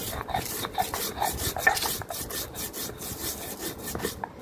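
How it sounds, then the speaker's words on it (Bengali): Dried chili and salt ground on a stone slab (pata) for a hilsa fish-head bharta, giving a steady rasping, rubbing scrape with rhythmic strokes close to the mic, no talk. "প্রথমে আমি শুকনো মরিচটাকে বেটে নেব। এই তো একটু লবণ দিয়ে বেটে নিচ্ছি।"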